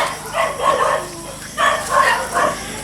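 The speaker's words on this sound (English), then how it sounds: "Of course the dogs over at Tata and Gina's aren't too happy" Dogs bark from a neighbouring property beside a farm with goats, sounding as several rounded, mid-distance barks in two loose clusters over a steady outdoor background.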